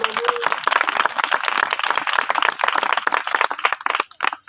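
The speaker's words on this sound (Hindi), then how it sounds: "जोरदार तालियां" Loud applause from a crowd at a church youth meeting, dense irregular clapping running steadily for several seconds and thinning out near the end.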